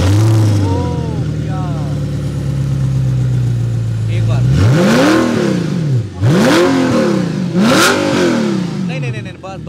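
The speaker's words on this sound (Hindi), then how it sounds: "बात करते हैं इसके एग्जॉस्ट की, तो फिर सुनाई देते हैं" An Audi R8 V8 engine idles with a deep exhaust burble, then revs hard three times in rising and falling sweeps, loud and close to the tailpipes.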